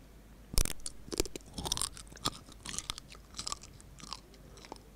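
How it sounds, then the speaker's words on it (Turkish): Crunchy chewing of gold and sponge-textured watermelon, close and loud, with sharp irregular bites and crackles repeating throughout and no talk. "Bunun kıtırtısı hoşuma gitti lan."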